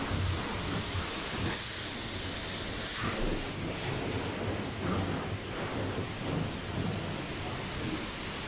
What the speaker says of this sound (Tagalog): Ngayon, banlawan ko na yung sasakyan. Ang ginamit ko na ay yung tubig na may kahalong wax.